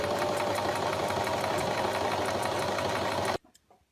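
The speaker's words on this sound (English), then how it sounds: "So I shall just adjust the sewing machine accordingly" Sewing machine running steadily while sewing sequins onto fabric, a continuous loud mechanical whir with rapid stitching rhythm that stops abruptly near the end.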